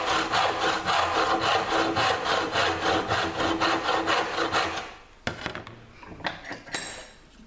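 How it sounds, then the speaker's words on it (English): A hand saw cuts through a piece of wood clamped in a vise, with steady back-and-forth rasping strokes for about five seconds before it stops and a few lighter knocks and handling sounds follow. "a saw just on the waist side of the line, backwards and forwards slowly to start it off"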